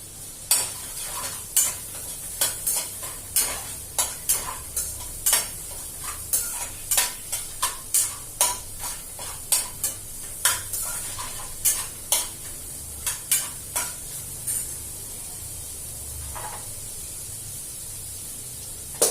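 Capsicum being stir-fried with boiled chow noodles in a pan, with a constant hiss of frying broken by a regular run of sharp spatula scrapes and clacks against the metal, close and loud.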